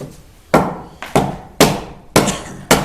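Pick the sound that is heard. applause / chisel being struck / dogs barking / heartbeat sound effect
chisel being struck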